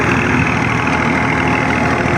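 A tractor engine runs steadily beside a brick-making machine, loud and close with a continuous rough rumble and no talk.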